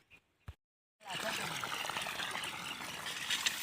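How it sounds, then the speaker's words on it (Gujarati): Irrigation water gushes into a planted field after a couple of short knocks and a pause, then flows in a steady, close, hissing stream. "પાણી ચાલુ થઈ ગયું છે. અરે ખેતરમાં જાય છે પાણી."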